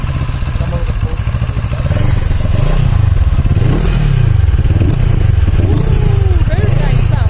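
Cfmoto 700CL-X motorcycle engine on a test ride: a loud, continuous close engine drone rising and falling in pitch as the throttle changes, with wind noise and faint clatter over it.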